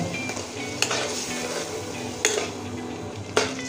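A spoon stirring Bengali rohu fish curry masala with potatoes in a pan, soft continuous sizzle under scraping, with three sharp metallic knocks against the pan.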